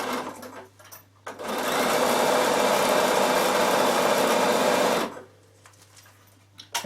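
A Bernina sewing machine top stitching a carry case, running in one steady, loud, rapid burst of about four seconds, then stopping, with faint room noise on either side.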